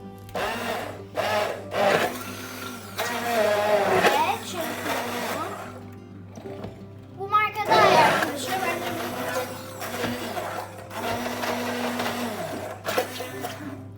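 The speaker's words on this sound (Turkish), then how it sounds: "Artık karışımımızı çırpabiliriz." An electric hand mixer whirs loudly in bursts while whisking a mashed banana mixture for oat biscuits, the motor revving and pausing, close, with voices talking between and over it.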